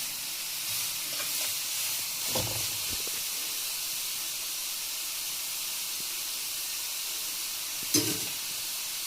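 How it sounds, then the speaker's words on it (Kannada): Beetroot sandwich filling sizzles steadily in a hot pan, a soft continuous frying hiss with occasional stirring scrapes and a brief louder clack near the end; no one talks. "ಹಿಂಗೆ ಫ್ರೈ ಮಾಡಿ"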